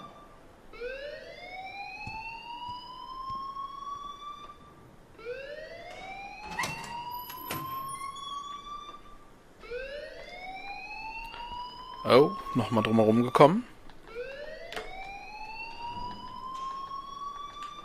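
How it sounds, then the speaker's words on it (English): A repeating electronic alarm in the video game Life is Strange, rising swept tones cycling every few seconds, with a brief burst of speech partway through. "please turn off that alarm since that's your job"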